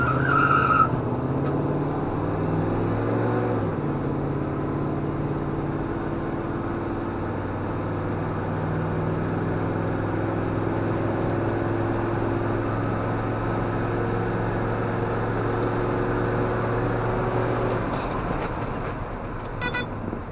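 A 1994 Dodge Dakota SLT accelerates slightly uphill toward 60 mph. The engine drones loudly and steadily from inside the cab, its pitch climbing and shifting through the gears for about eighteen seconds before easing off.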